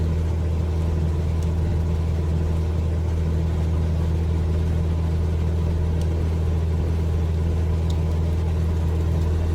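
An aircraft engine in Microsoft Flight Simulator 2020 runs at a steady low drone, constant and unbroken throughout, close and fairly loud with no voices over it.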